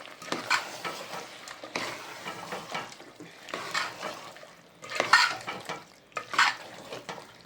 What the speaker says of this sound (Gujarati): હવે એને ફેરવી લે